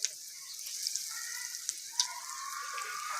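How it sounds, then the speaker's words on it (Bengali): Vegetable chops frying in hot oil, a steady soft sizzle with occasional sharp pops and crackles, close and fairly quiet, with no voices. "এবার বাকিগুলো ভেজে নেব।"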